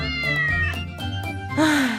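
A mother cat meows repeatedly and insistently, loud and close, ending in a long drawn-out rising-falling call.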